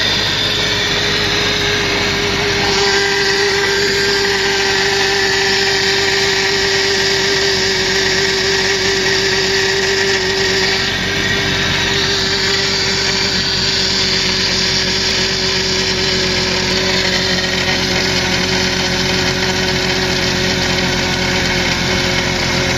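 A 1997 Jeep Cherokee engine runs steadily after a high-pressure power steering line repair, with a continuous loud hum and a faint whine throughout and no talking.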